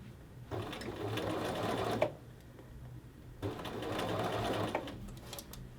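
A sewing machine stitches a shirt collar band at a 5/8-inch seam, two steady runs of rapid mechanical whirring, each a couple of seconds long, separated by a short pause and heard up close at a modest level.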